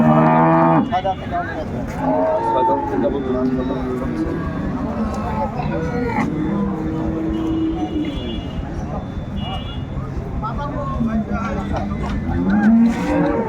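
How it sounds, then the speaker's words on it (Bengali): Dairy cows and calves moo several times, long low bellows close by at a cattle market in Dinajpur, overlapping with people talking and distant road traffic. "বেশ সুন্দর গাভী বাছুর আমরা দেখছিলাম"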